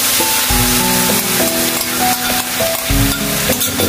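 Half-cooked chicken sizzles steadily in a pan as sauce is stirred in, a loud continuous fry with scraping stirring strokes and no talk, made while cooking a mie kocok Gacoan-style dish.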